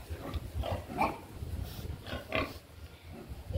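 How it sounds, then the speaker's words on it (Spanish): Pigs grunt in a farm pen with short, irregular snorts and oinks that rise and fall at moderate distance, fairly quiet against a low background murmur. "Esos puercos..."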